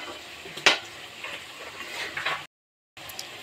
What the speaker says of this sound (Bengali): আলুগুলো ভেজে নেব আর একটু হালকা করে।